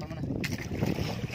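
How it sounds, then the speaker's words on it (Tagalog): A fishing boat's engine runs steadily at dusk on open water, a continuous low rumble mixed with wind buffeting the microphone and water noise, close and fairly loud throughout. "Ito nga pala yung makina ni Kuya Hamad."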